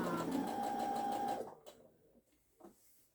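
A sewing machine stitches a shape in a quick continuous run for over a second, then stops, leaving a few faint clicks and handling sounds close by.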